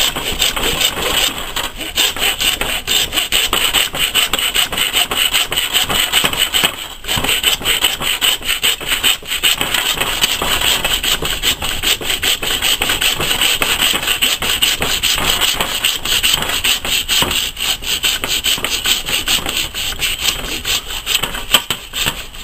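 A saw cuts through venison to make chops, a steady, harsh rasping stroke that continues without letup for over twenty seconds, with no speech.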